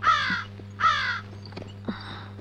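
A crow caws three times, two sharp, loud caws close together, then a softer third, against a quiet background.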